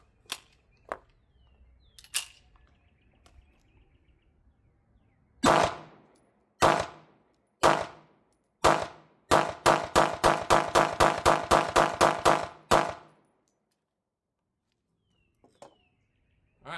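Smith & Wesson M&P pistol fitted with an Osight XR optic firing at a range: a few spaced single shots, then a quick string of about ten loud, sharp reports, with faint clicks before and after.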